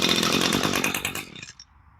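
A small two-stroke Echo SRM 225 string trimmer engine runs slightly rich after a carburetor rebuild, a loud buzzing drone that revs briefly then drops and dies away near the end.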